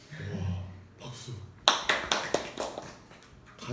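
Scattered audience clapping in a Korean church Bible study session, a handful of sharp separate claps rising out of quiet room tone after a voice, fairly close and brief.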